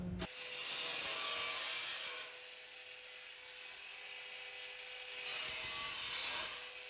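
Parts of a homemade wood-burning stove built from a barrel being screwed together, a steady mechanical ratcheting and grinding that grows louder in two bursts, near and with no talk.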